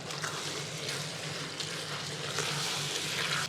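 Squeezed soy chunks (meal maker) frying in a pan, a steady close sizzle with faint stirring and watery crackle running continuously throughout.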